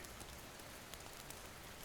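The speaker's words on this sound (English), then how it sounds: "Let the sound of the rain wash away the troubles of your day." Steady rain falling, a soft continuous hiss of drops on a surface, quiet and even with no voices.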